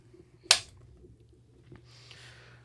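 A clapperboard claps once, a single sharp crack near the start, followed by quiet room tone and a faint rustle in a podcast studio.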